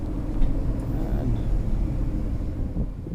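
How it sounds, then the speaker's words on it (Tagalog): A tour bus engine gives a steady, low rumble that holds at a constant level throughout, with no clear rises or individual events. "Ito yung bus natin sasakyan."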